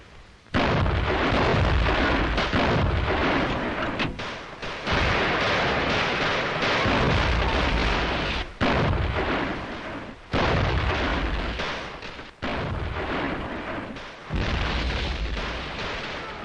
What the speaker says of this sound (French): ouvrons le feu à volonté